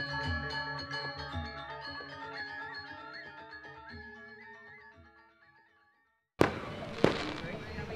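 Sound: fireworks going off nearby at Jimbaran Beach, Bali

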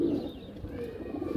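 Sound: Kaldume Fulsar pigeons cooing

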